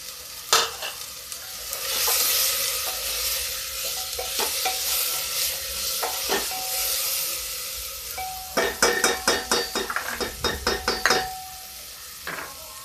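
Ginger sizzling and frying in a pan over high heat with a steady hiss, broken by sharp clinks and scraping of a spoon stirring against metal, quickening toward the end.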